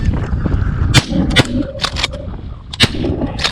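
Shotgun blasts during a goose hunt in Iowa, several sharp loud reports in quick succession separated by short gaps, with faint background noise between shots.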